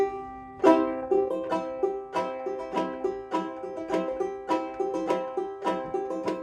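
Ukulele strummed in a country-folk pattern that blends paintbrush strums with finger-drag strums, giving a steady, even rhythm of bright chord attacks, about two per second, played close and alone.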